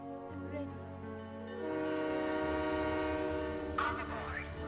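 A departing train sounds out with a long, steady horn-like tone that swells after a quiet start and holds loud, with a brief squeal or whistle near the end, set in a dramatic audiobook scene.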